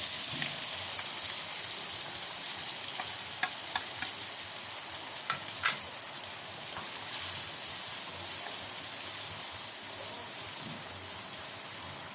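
Garlic stir-frying in hot oil for Filipino garlic fried rice gives a steady, dense crackling sizzle like rain, close and continuous, with a few faint utensil clicks and no talking.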